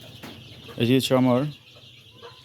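Week-old Sonali chicken chicks on a farm give a short burst of loud clucking calls, close by, after a man's brief speech.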